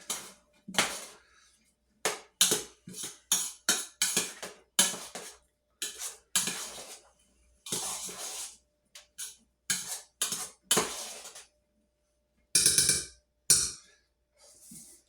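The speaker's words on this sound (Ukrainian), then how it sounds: "Добре, це все треба перемішати." A spoon scraping and clinking against a bowl in quick repeated bursts of stirring cold soup ingredients, close up, with short pauses between strokes.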